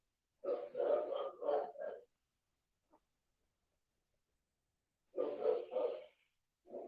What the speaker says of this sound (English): The neighbor dogs is okay